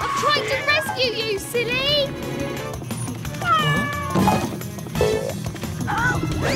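A cartoon kitten mews repeatedly in high, sliding cries amid lively animated-show sound effects and background music, with a cheerful voice speaking between the meows.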